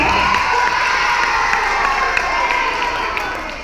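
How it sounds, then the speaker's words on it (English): Children at an elementary school assembly cheer and applaud in a loud, steady roar of crowd voices and clapping that stays unbroken for the whole stretch and eases off slightly at the end. "give him a little applause. Come on, show him some love."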